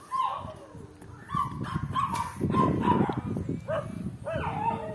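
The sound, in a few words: dogs barking at a dog shelter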